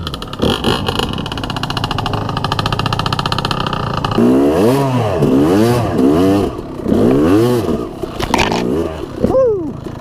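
A motorcycle engine revs hard on a steep uphill climb during a wheelie, rising and falling in repeated loud surges close by, with a steady idle-like drone before the revving starts.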